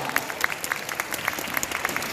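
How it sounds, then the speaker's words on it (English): Convention audience at a comic con panel in Ireland applauding a guest, brisk steady clapping with distinct individual claps audible, continuous throughout. "come down here with a round of applause for Vic Mignogna"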